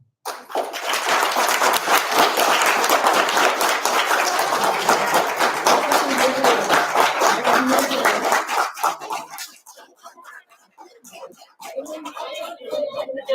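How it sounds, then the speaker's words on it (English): A team at an expressions event claps hard in a clapping contest, sustained dense loud clapping with no hooting that fills most of the stretch, then drops off into scattered claps and brief talk. "You can only clap, no hooting, only clapping,"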